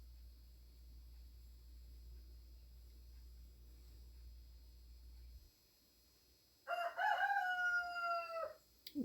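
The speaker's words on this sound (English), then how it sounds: "my rooster's happy this morning. Can y'all hear him?" After several seconds of quiet room hum, a rooster lets out one loud, close crow with a stuttering start and a long sustained tail, no talking over it.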